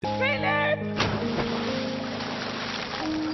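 A man loses his balance on a slow rope walk and drops into the water, giving a sudden broad splash after a brief voiced sound, followed by a sustained churning wash of water.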